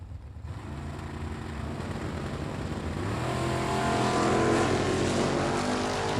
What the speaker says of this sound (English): Jason in the Oldsmobile down 695. Brian in the Dodge in left lane down 596